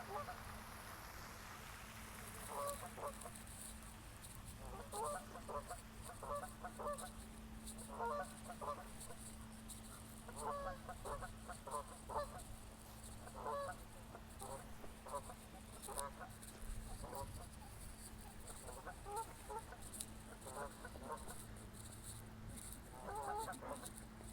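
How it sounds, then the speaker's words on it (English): A flock of geese honks repeatedly on a walking path, bursts of calls recurring every second or two at moderate distance over a low steady hum and outdoor ambience. "Join with the geese."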